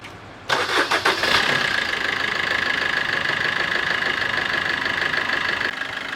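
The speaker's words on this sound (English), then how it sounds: "So I shall move ahead by starting the car with a good battery." A Tata Tiago XZA with a good battery cranks briefly in a quick rhythmic burst, catches, then settles into a steady, even idle close by, with no talking.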